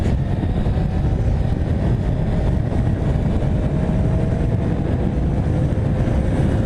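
A 2015 Yamaha R1 motorcycle engine drones steadily at low revs in A riding mode, a continuous close rumble with an on-off, choppy throttle response at slow speed.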